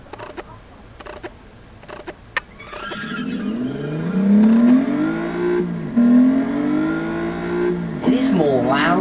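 An Alfa Romeo engine rising from idle into loud revving, the pitch climbing and falling through gears, with someone talking over it at first and a few clicks early on.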